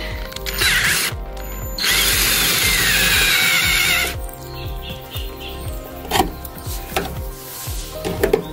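A power drill bores out rivets at the corner of a camper, with a loud sustained whine for a couple of seconds followed by ratcheting, clattering bursts and short spins of the bit, close by.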